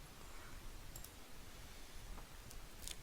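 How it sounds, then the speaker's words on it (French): A computer mouse gives a few sharp, faint clicks spaced apart over a soft, steady background hiss, close by with no talk. "il vous faut cliquer sur Ajouter"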